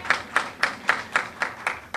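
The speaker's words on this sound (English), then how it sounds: "Give her a big round of applause." A school audience at a primary exit-exam awards ceremony claps for the top girl, giving steady, evenly spaced claps at a regular rhythm, fairly close and clear with no talking.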